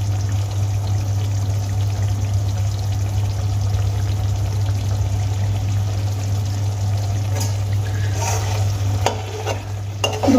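A tilapia fish head curry is stirred gently in a pan, giving a continuous sizzle and soft wet bubbling over a steady low hum, with a few light scrapes near the end.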